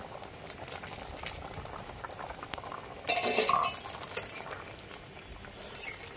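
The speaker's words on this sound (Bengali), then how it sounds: "এবার ঢাকা দিয়ে ঝোলটাকে ফুটতে দেবো।" Thin tilapia fish broth with potatoes simmering in a covered pot, a soft continuous bubbling hiss, with a brief louder rattle of the lid or utensil near the middle before settling back.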